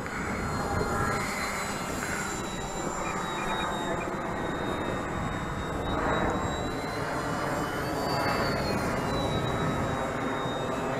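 A radio-controlled flying-wing model aircraft buzzing through the air on a windy day, a steady whining motor drone that rises and falls slightly as it passes, heard from the ground at moderate distance.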